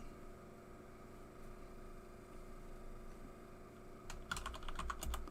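A computer keyboard is typed on in a short burst of quick, crisp clicks near the end, close and clear over a low, steady background hum.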